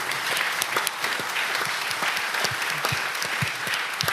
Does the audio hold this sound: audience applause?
yes